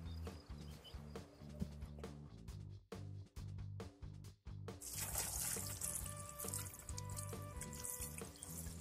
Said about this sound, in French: maintenant on mouille. Donc on vient mouiller.